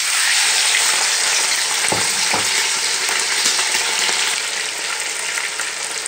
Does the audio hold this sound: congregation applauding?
no